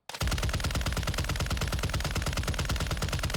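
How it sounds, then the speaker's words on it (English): A Vaznev-9K submachine gun in a shooter video game fires one unbroken burst into a wall, emptying a full magazine in rapid, evenly spaced, loud shots that cut off at the end. "And let's empty out another mag on the wall."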